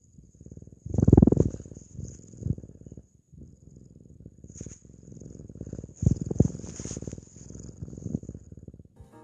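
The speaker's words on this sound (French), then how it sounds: "Elle ronronne souvent." A cat purrs steadily and softly up close, a low rhythmic rumble running through the whole stretch with a few louder swells, alone without talk.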